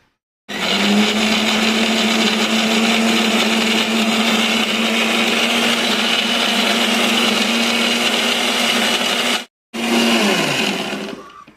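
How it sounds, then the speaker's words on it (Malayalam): An electric mixer grinder blending green mango with cold water into juice, a loud steady motor whine running for about nine seconds, briefly cutting out, then restarting and spinning down. "എന്നിട്ട് നമുക്ക് മിക്സി വെച്ച് ഒന്ന് അരച്ചെടുക്കാം ജ്യൂസ് പോലെ"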